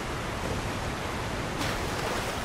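Rushing waterfall in Elden Ring: Shadow of the Erdtree, a dense, steady roar of falling water filling the whole clip at constant loudness with no other sounds standing out.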